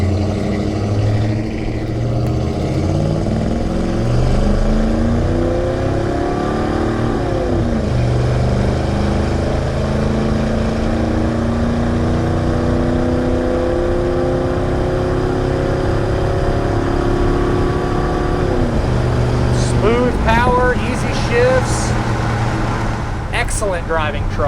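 A 1987 GMC C10 pickup with a 350 V8 and 700R4 automatic on a test drive, a loud steady engine drone that rises and falls through shifts as it accelerates, with someone talking over it.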